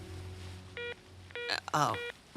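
Telephone keypad tones in a Transformers Rescue Bots cartoon, several short beeps spaced over a couple of seconds, with a character's brief voice and soft background sounds in between.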